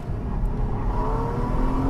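A 2014 Porsche Cayman S engine pulls steadily under throttle on a cone-marked track, a close, continuous droning rise heard from inside the car without talk.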